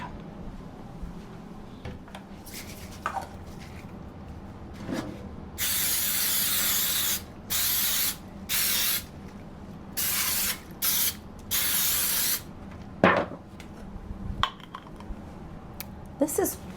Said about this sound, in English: I'm just going to use the spray, baking spray